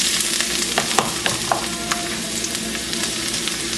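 Hot oil sizzling in a pan ready for fried rice, a dense continuous crackling fry with frequent small pops and spatters, close and fairly loud, no voices.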